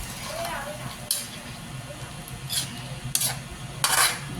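Ground pork with vegetables is stirred in a pan, a soft continuous sizzle broken by several sharp scraping strokes of a utensil against the metal, fairly quiet and close.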